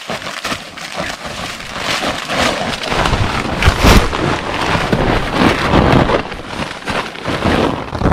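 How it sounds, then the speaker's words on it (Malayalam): Heavy rain pours at a campsite, with rumbling thunder rolling through a loud, dense, unbroken wash of falling water that swells and eases over several seconds. "ഇടിയൊക്കെ വെട്ടുന്നുണ്ട് കേട്ടോ."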